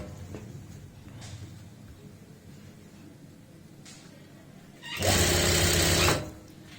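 A sewing machine stitches a churidar pajami, a quiet low whirring through most of the span, then a loud steady burst of fast running for about a second near the end.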